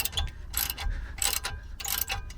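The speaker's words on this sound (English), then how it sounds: "So I'm now undoing the pinch bolt." Ratchet clicking in quick bursts as it undoes the pinch bolt on the lower wishbone of a Vauxhall Agila B, three close rattling runs separated by short pauses, with no talking.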